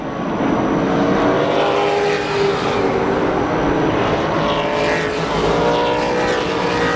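Super late model race cars at Tucson Speedway roar by in a pack, a loud continuous engine drone with rising and falling tones as they race side by side into a turn.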